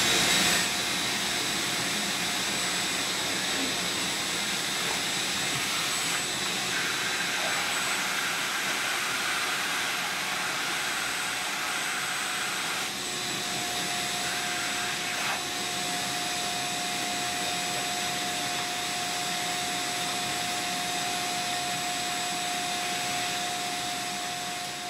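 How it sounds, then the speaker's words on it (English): A vacuum cleaner catching falling dust while a pellet stove is brushed clean, a loud, steady whining roar running without a break, with faint brushing shifts and no voices. "as the dust comes down, the vacuum cleaner hopefully will be able to catch all that."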